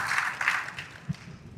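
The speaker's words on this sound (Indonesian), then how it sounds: "Tepuk tangan dulu buat saya yang tadi sudah terlibat memberikan jawaban." Short stretch of audience applause at a school gathering, a soft steady patter of many hands clapping that fades slightly toward the end.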